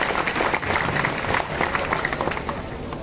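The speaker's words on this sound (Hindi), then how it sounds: "मैं चाहूंगा कि आपकी तालियां भी उनका अभिनंदन करें" Audience applause at a public address, a dense, steady wash of many hands clapping together in a large room, sustained and fairly loud without letup.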